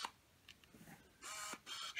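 A Canon EOS 3000 film camera makes two short mechanical bursts of shutter and motor noise, close and clear, after a quiet stretch.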